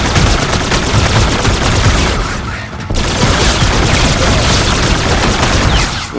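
Rapid, dense gunfire from the Infinite Warfare Zombies game as a horde of zombies is shot down, loud and sustained, with a brief lull partway through before the shooting resumes.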